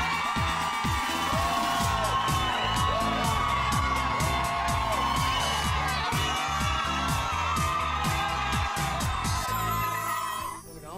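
A big crowd gathered outdoors in Temple Bar, Dublin, for a You're A Star talent-show event cheers and shouts loudly and continuously, with a rhythmic musical backing under the noise that fades at the very end.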